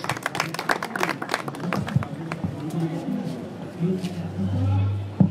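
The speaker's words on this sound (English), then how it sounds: "Please give him a harsh clap." A small audience at an English language club in Sudan claps to welcome a guest speaker, a quick patter of hands near the start that fades under people talking and murmuring in the room.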